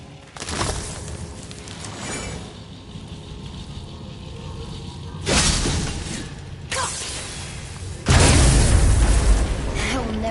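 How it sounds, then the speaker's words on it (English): Objects shatter under Kratos's weapon in the God of War video game, loud crashing bursts with crumbling debris at about one, five and eight seconds, over a low rumbling game background with some voice present. "I will never get tired of shattering things with this."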